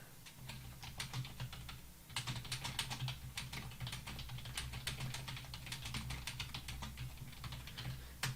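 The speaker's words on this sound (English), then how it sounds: "Typing noises." Rapid, steady clicking of a computer keyboard being typed on, quiet and close, with brief pauses between bursts and no voices.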